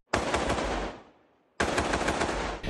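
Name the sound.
numerous gunshots fired from a rooftop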